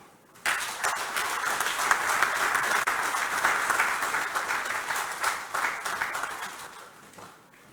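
A large audience applauds after a speech at the commissioning and handover of the AfCFTA Secretariat, steady dense clapping that starts abruptly, holds loudly for about seven seconds and then fades.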